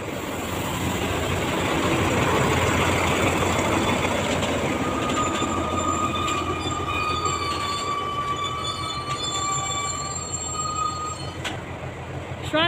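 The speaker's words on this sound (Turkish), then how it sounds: "Karşıdan da bir yük treni geliyor." Railway switch at Çiftehan with trains waiting and a freight train approaching: a steady loud rumble of rolling wagons with sustained high wheel squeals and screeches drifting above, continuous throughout.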